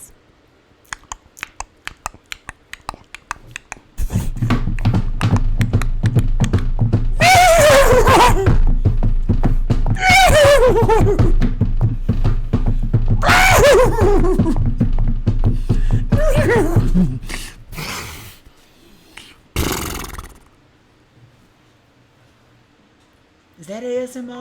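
Several loud, drawn-out horse neighs and whinnies come in succession, falling in pitch, after a stretch of light keyboard clicking and followed by quieter room sounds; a person also talks in the room.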